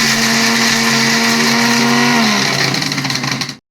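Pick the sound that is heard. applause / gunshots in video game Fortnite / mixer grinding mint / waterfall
mixer grinding mint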